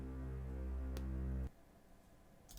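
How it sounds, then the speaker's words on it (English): A low cello string sample loaded into a Novation Peak or Summit wavetable synth plays as one sustained, rich, droning tone for about a second and a half, then cuts off abruptly, leaving faint room noise. "Very low string, cello string, I think."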